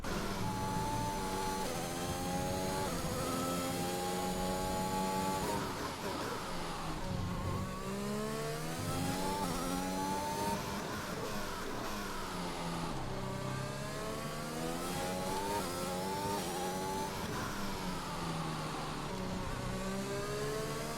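An F1 2021 race car in a video game makes a qualifying lap of the Hungarian GP circuit, its high-pitched engine whining up and down through repeated gear shifts, loud and continuous with no talking.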